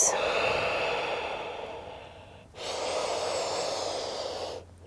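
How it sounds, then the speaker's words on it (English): Slow, deep yoga breaths taken in child's pose, close and clear: one long airy exhale, a short pause, then another long breath, with no talking. "Nice deep breaths."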